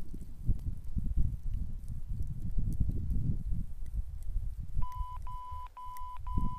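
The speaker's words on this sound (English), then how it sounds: "it gives this very annoying beeping sound" An avalanche beacon with a 457 kHz send failure gives a run of short, repeated electronic beeps in the final couple of seconds, after a stretch of low handling and knocking noise.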